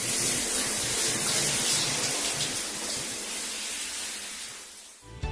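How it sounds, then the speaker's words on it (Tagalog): Water from a shower pours in a steady loud hiss that fades slightly toward the end, with no talking. "maliligo lang muna ako dahil feeling lagkit tayo ngayon"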